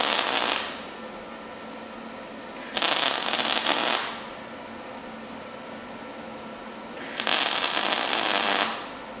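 Welding on the wheel well of a Holden HQ throws off spatter in three crackling, hissing bursts of a second or two each, with quieter stretches between them.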